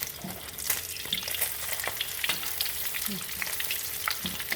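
Food frying in a pan, a steady dense sizzle and crackle running the whole time, close and fairly loud, with occasional soft stirring knocks and no voices.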